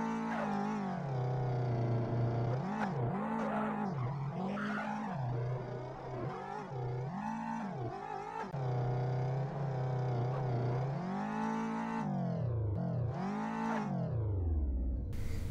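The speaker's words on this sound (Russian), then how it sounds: "Если автомобиль особо никак не настраивать, то он будет ездить примерно так." A buggy in a game drives over hilly, uneven terrain. Its engine drones steadily and its pitch keeps rising and falling as it bumps over rises, with tire squeals and a revving surge near the end and no talking.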